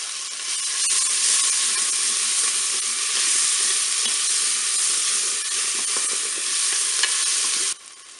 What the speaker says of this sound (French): Mon beurre est fondu, je vais mettre mes oignons.